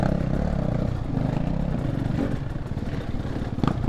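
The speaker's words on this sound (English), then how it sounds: "It's a good running 2-stroke, well set up." Honda two-stroke dirt bike engine crawling slowly along a wet trail, a close, continuous low burbling putter with rattly clatter and slight rises in revs.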